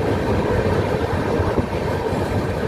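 Steady rumble of a train running on a single line toward Adra, heard from inside a passenger coach, continuous and moderately loud with a faint knock partway through.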